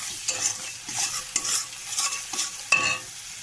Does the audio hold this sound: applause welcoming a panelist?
no